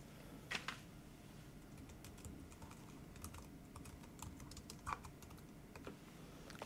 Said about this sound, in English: In our text box, we will type a keyword to begin our search.